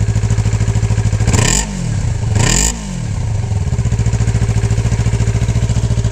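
Yamaha R3 motorcycle engine running with the muffler removed, a loud, harsh, rapid idle throb close by, with two brief revs that sharply lift the pitch before settling back to the raw idle.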